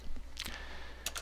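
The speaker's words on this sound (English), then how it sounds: "I'm going to type in power" Keys on a computer keyboard are tapped in a few quick, close clicks, faint and separated by short pauses, as a command is typed.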